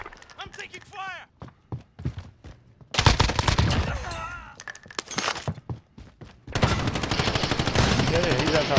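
Automatic rifle fire from an M4A1 in Call of Duty Warzone: dense bursts of rapid gunshots that alternate with quieter stretches, loud and close, with a player's voice talking in between.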